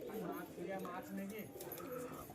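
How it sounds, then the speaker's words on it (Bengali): Pigeons coo softly and repeatedly at close range, with a low, throaty murmur that carries on steadily throughout. "দুটো কবুতর সেল পোস্টে ছিল কবুতর দুটো আমার কাছে নিয়ে এসেছে"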